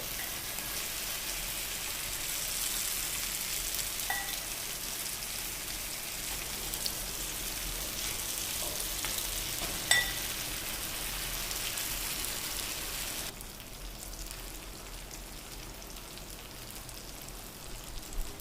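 Marinated, steamed yam pieces fry in oil in a pan, a faint, even crackle and sizzle like light rain that holds steady, then drops quieter near the end, with no talk.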